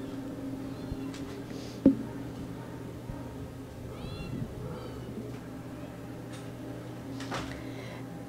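A young tabby-and-white cat about five months old meows softly a few times over a steady low hum, faint and close, with light clicks and handling noises and no clear speech.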